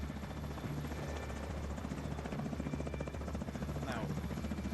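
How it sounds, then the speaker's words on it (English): A helicopter in the video game The Division 2 drones overhead with a loud, continuous rotor thump and whine that holds steady throughout. "Okay, incoming another helicopter."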